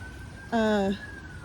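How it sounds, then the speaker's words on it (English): A single brief siren tone, steady and harmonic, sounds for about half a second over a low rumbling background, then stops. "I hear sirens to something somewhere."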